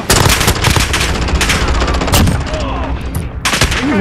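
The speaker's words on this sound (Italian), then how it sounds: "Mi sparano." Rapid gunfire and explosions from a Call of Duty Modern Warfare match fill the whole stretch in loud, dense bursts and bangs, with a voice briefly audible amid the shooting.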